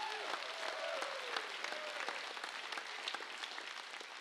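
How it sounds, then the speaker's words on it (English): A church congregation claps its hands and cheers in praise, steady dense applause throughout with scattered shouts and voices rising over it. "Give him a hand clap and a shout of praise."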